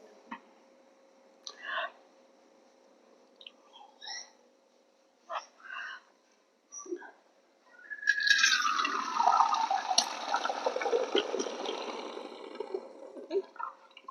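Liquid whey from homemade paneer pours through a damp white cloth in a basket into a bucket below, a steady splashing gush that starts partway in after several brief soft knocks and handling sounds, close and fairly loud.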